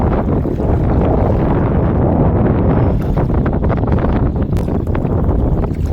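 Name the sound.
strong wind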